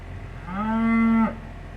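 A single cow gives one clear, drawn-out moo on a farm, close and fairly loud, rising then holding steady before cutting off, with faint background noise around it.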